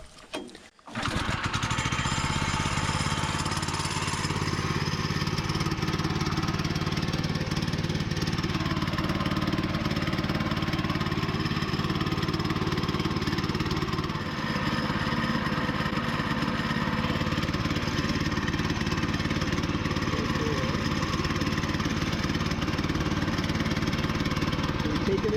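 The gas engine on a Woodland Mills 122 sawmill starts with a brief clatter, then settles into a loud, continuous, close-up drone while sawing a 12-foot oak log.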